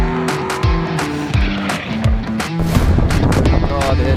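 Gasser drag car at a gassers reunion event in Thompson, Ohio, rumbles back toward the pits, its loud engine note rising and falling with engine speed close by, while crowd chatter runs underneath.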